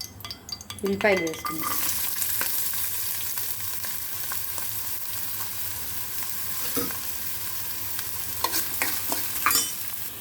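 Onions frying in a little oil in a pan while making cauliflower and potato curry, a steady close sizzle with occasional scrapes and stirring clatters and no talk.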